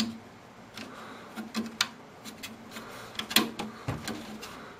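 A jammed hard drive bay in an NZXT H2 PC case is worked by hand, giving a series of irregular plastic clicks, knocks and scraping slides, close and fairly quiet, with no talking.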